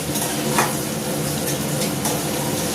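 Carrots, papaya and potatoes fry in a pan, giving a steady sizzle. Stirring scrapes and clinks come through now and then, close by and constant with no talk.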